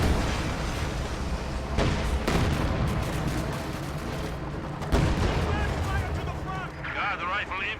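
Tank cannon fire in a World War II real-time strategy battle with T-34s and a Panther: several heavy booms at irregular intervals over a dense din of combat noise, with game sounds and a faint voice mixed in.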